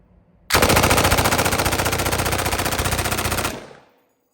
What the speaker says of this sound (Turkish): Hadi gelin sizinle beraber güzel bir atış yapalım